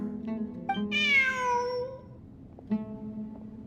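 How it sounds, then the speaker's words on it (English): A cat meows clearly in Genshin Impact, one long rising-and-falling meow followed by a few shorter chirps, close and alone over soft ambience. "Look! A cat!"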